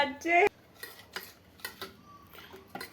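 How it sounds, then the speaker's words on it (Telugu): A spoon knocks and scrapes against a bowl in a few separate strokes while ragi malt flour is mixed with water, close and fairly quiet, with a brief tonal sound at the very start. "తర్వాత నీళ్ళు నీరు కొద్దిగా వేసి అట్లా మిక్స్ చేస్తూనే ఉండాలి"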